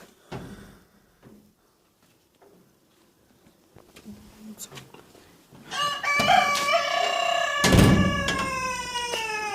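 Chicken calls from a farmyard, with crowing and clucking swelling loudly in the second half after scattered quieter sounds and faint knocks.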